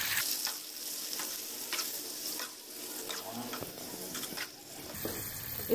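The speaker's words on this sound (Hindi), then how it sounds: "ये देखिए मैंने चिकन ऐड कर दिया।" Chicken frying in a few spoonfuls of oil in a pan, a steady close sizzle with stirring scrapes and clatter running throughout, with no voice.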